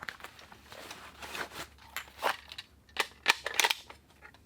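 An airsoft magazine slides into an empty pants side pocket, giving a series of short fabric rustles and plastic clicks, sharp and close, with no talking.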